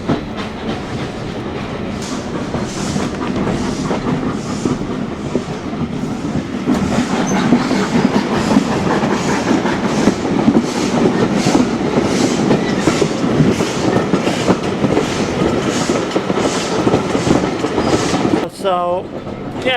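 A passenger train on the Isle of Wight rolls along the rails toward Witten Station, with steady rumbling and rhythmic clickety-clack of wheels heard from inside the carriage, continuous throughout.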